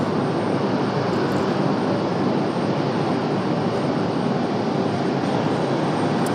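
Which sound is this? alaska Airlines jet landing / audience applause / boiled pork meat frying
alaska Airlines jet landing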